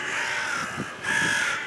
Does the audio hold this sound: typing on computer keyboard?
no